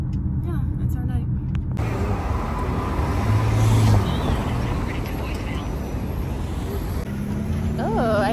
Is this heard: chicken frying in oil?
no